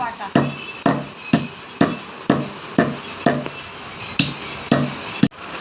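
Dry ginger, about 10 grams, pounded in a kitchen for a homemade spice mix: a steady series of about ten sharp, fairly loud thuds, each with a short ringing decay, spaced roughly half a second apart, with no speech.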